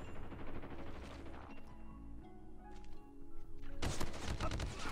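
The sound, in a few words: gunfire in Call of Duty Mobile video game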